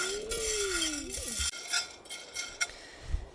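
Coffee beans stirred while roasting in a pan over a fire give off a scraping, rattling clatter with scattered light clinks, louder in the first half and then thinning to a few separate taps.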